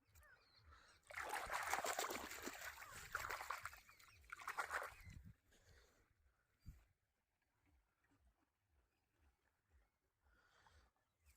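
Water trickling and splashing into a farm field, a rushing burst for several seconds that fades to faint dribbles and small splashes, fairly quiet.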